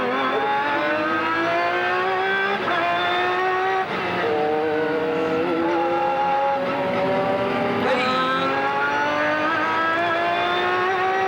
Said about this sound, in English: You can hear that AGT car.